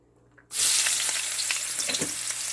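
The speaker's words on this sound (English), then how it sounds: "So saute the spices until slightly golden brown or translucent." Spices and ginger hit hot oil in a pan for a tofu, mushroom and baby spinach dish, bursting into a loud, sudden sizzle that continues steadily and close, with faint stirring.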